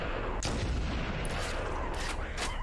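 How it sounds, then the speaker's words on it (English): Sniper rifle fire in Halo: Combat Evolved Anniversary, heard as loud booming shots against dense, continuous game noise with no talk. "Well, let's use the sniper."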